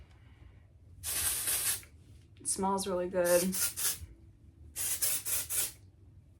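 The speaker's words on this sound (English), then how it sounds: "This is the Milbon dry texture spray" Milbon dry texture spray hisses onto hair in three separate bursts, each a second or so long, close to the mic, with brief speech between the sprays.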